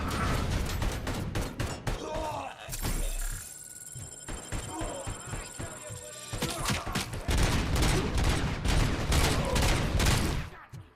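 Pistol gunfire in the video game Robocop: Rogue City: dense volleys of loud, sharp shots crowd the scene, with a brief lull in the middle before the firing picks up again.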